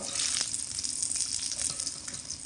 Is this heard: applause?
no